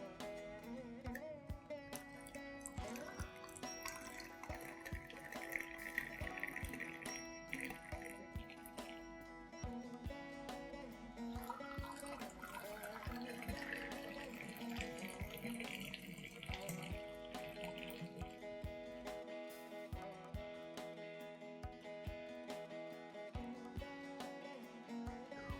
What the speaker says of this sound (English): let's add in hot milk